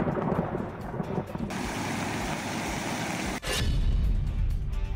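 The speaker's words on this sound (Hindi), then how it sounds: "गरजते बादल, बरसती आफत," Heavy rain pouring steadily with a deep rumble of thunder underneath during a monsoon storm, broadband hiss continuing throughout with a brief break and a louder low rumble toward the end.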